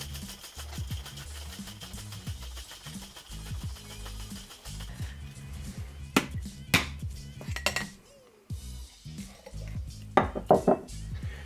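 A cocktail shaker holding egg and no ice is shaken hard and continuously near the mic, giving a dense, rhythmic sloshing rattle that breaks briefly before a few sharper knocks and clatters near the end.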